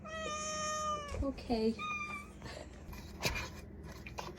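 A domestic cat meows loudly and clearly with a long drawn call, then a few shorter meows, with a person speaking briefly between them and some handling noise.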